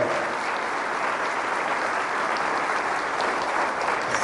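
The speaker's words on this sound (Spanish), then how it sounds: "Fuertes aplausos a la palabra del Señor y Salvador Jesucristo" A church congregation breaks into loud applause, a continuous, even wash of many hands clapping at once with no single clap standing out.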